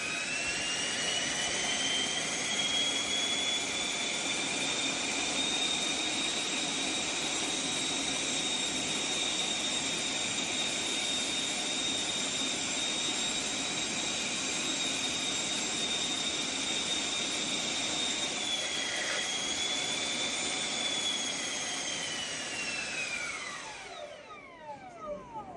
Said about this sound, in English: I get about close to half throttle on one motor.